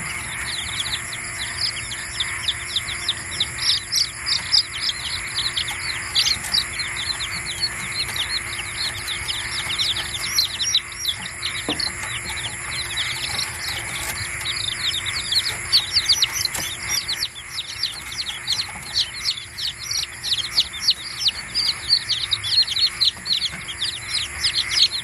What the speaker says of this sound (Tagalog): yung ating mga na-incubate na itlog noon na napisa na